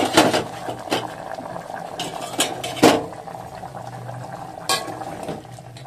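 Chamagadda pulusu, a taro-root curry, bubbles in a covered pot, with soft burbling and several sharp metallic clanks and knocks of lid and utensils at irregular intervals.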